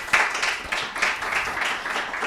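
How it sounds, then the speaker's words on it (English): An audience at a livestreamed accessibility meetup applauds a speaker, a short burst of scattered hand clapping at modest volume lasting about two seconds. "please give Dani a round of applause"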